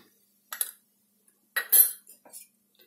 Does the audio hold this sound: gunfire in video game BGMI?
no